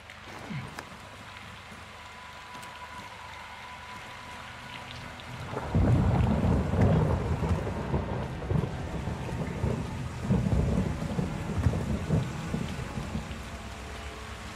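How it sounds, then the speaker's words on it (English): In Call of Duty Modern Warfare 2, heavy rain falls steadily, then a loud rumble of thunder breaks in partway through and rolls on, with the downpour continuing beneath it. "It's raining fucking hard."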